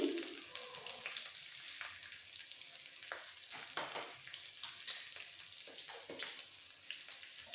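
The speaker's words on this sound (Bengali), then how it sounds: "ফোড়নটাকে একটু মেজে নেবো" A spice tempering with curry leaves and a pinch of asafoetida sizzles in hot oil while being stirred, giving a quiet, crackly fry with scattered scraping strokes and no voices.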